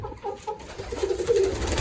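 Pigeons coo in a backyard setup floored with clay soil, where chickens and a black rooster roam; the soft, repeated cooing is close and moderately loud, with no talk.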